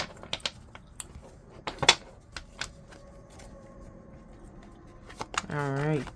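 A deck of tarot cards is shuffled by hand during a reading, giving irregular crisp snaps and riffles that come and go, with a brief voiced sound at the end.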